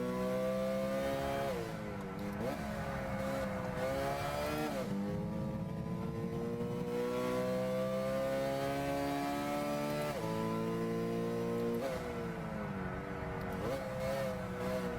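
Racing cars in the video game Gran Turismo 6 accelerate hard, engines climbing through rising pitch sweeps with brief drops at each gear change, repeated several times in a loud, continuous engine drone.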